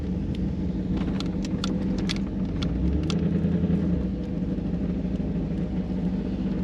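Truck engine rumbling steadily up close with a pitch dip and recovery as it shifts gears, the drivetrain running smoothly after a transmission fluid top-up; brief higher clicks and squeaks over the drone.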